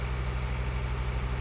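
A small tractor engine idles steadily in the video game Farming Simulator 2013. It gives a low, even mechanical drone with a fast regular pulse, heard alone and close.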